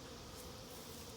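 Honeybees from an absconding hive, now housed in a nuc box with a feeder under the inner cover, keep up a steady, soft buzzing hum that fills the whole moment without a break.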